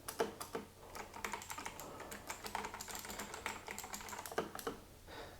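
Razer BlackWidow Chroma mechanical keyboard with tactile switches typed on rapidly, a dense stream of clicky keystrokes heard fairly close and quiet, with no voices.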